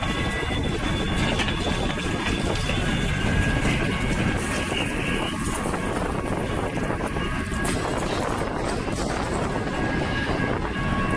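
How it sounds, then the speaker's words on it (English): Strong wind buffets a small handheld gimbal camera's microphone outdoors, producing a continuous loud low roar and rumble that fills the whole stretch without letting up. "I'm talking wind that's beyond just normal wind. It was really windy."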